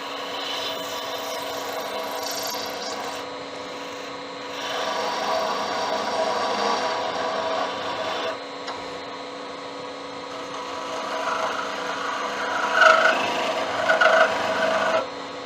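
A wood turning tool cuts into a spinning wooden Christmas bauble with a brass tube core on a lathe, producing a close, steady scraping rasp that swells and eases in several passes. No one speaks.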